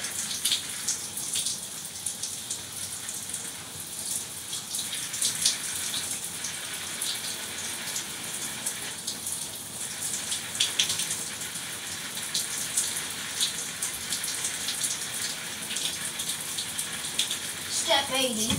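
Water streams steadily, like a running shower, a constant hiss with occasional splashes throughout.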